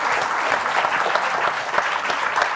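Sustained applause from an audience at a French talk on design fiction, a dense steady patter of many hands clapping together at close range for the whole stretch, with no voices on top.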